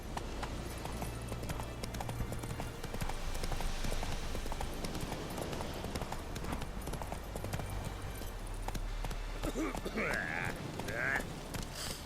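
Galloping horse hooves clip-clopping steadily amid game ambience in The Witcher 3, with a voice urging the horse Roach on, and a brief whinny-like tonal cry near the end.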